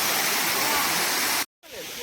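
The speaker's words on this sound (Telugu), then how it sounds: "ఆ పైన వాటర్ ఫాల్స్ అనేది స్టార్ట్ అయ్యి దాని ద్వారా ఇంకా అలా కింద పడుతూనే ఉంటుంది." A waterfall in the Araku and Vanajangi hills pouring down, a loud, steady roar of falling water that cuts out abruptly near the end and returns more faintly.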